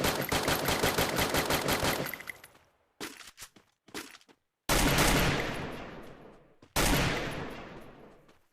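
Rapid automatic gunfire from the Free Fire mobile shooter game, a sustained loud burst followed by short bursts and two sharp single reports with ringing decay, with no talk.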